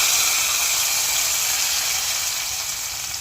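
Hot tempering of dried chillies and curry leaves poured into toor dal kulambu, giving a loud, steady sizzling hiss that stays broad and even throughout, then eases slightly at the end.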